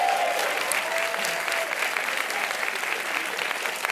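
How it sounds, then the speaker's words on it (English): An audience applauding at a game awards ceremony, dense sustained clapping throughout at an even level. "Let's just get another round of applause."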